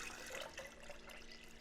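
Tap water running steadily into a lemonade mixture being made for an Arnold Palmer, a continuous close splashing and gurgling pour with no talk.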